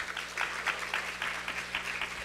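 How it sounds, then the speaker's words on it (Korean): Parents at a high school curriculum briefing clap to welcome a teacher to the stage; a room of steady applause with distinct rhythmic surges, moderately loud, carrying on without voices. "큰 박수로 맞이해 주시기 바랍니다."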